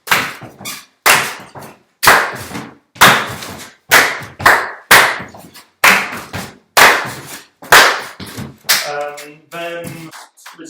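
About ten sharp hand claps land at a steady, even pace in a rhythm exercise, each crisp and close, followed by a short tonal sound at the end.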